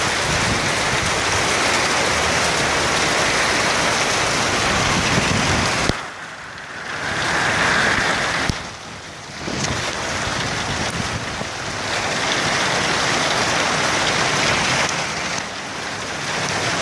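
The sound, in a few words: heavy rain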